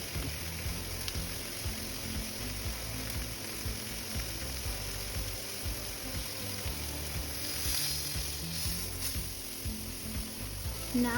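Lamb ribs sear in a hot pan with a steady, even sizzle and soft crackle throughout, a constant frying hiss at moderate volume with no voices.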